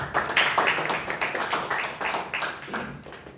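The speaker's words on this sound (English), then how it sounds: "A round of applause." Audience at a Toastmasters meeting giving a round of applause, crisp clapping from a modest crowd, moderately loud and steady for a few seconds.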